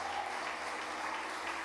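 Church congregation applauding during a worship service, steady dense clapping that fills the whole short stretch at a moderate level, with no voices over it.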